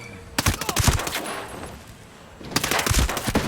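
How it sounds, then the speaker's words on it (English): Rapid automatic gunfire in the Ghost Recon Breakpoint video game, loud bursts at the start and again near the end with a quieter gap between. "Shooting."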